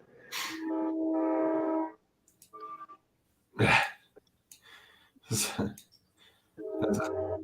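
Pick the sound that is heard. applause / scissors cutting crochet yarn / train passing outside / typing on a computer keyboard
train passing outside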